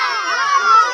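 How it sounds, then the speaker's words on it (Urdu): Children's voices rise together in a brief, bright group chant or cheer of hallelujah at an Easter gathering, close and loud for under a second. "ہاللویا کے نعرے لگاتے جاؤ۔"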